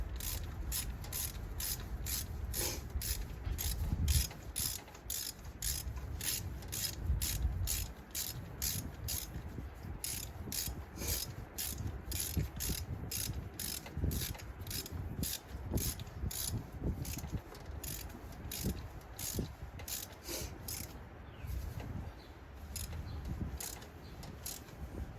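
A ratchet threads a spark plug into an engine, producing a fast steady run of close, sharp clicking pawl ticks over a low mechanical background, sustained throughout without talk.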